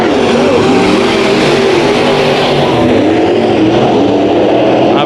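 Race cars roar continuously around the Bakersfield Speedway dirt track during a heat race, engines loud and close, their pitch rising and falling as the cars battle wheel to wheel.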